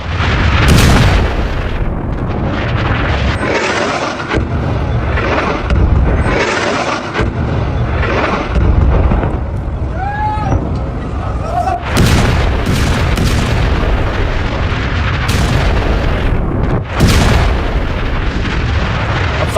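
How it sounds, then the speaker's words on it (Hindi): Heavy, booming explosions from Israeli strikes in Lebanon roar one after another, loud and rumbling, with brief gaps between blasts and a distorted, overwhelming low-end thunder. "लेबनान के अंदर घुसकर देखिए जरा, एक के बाद एक कई धमाके हुए।"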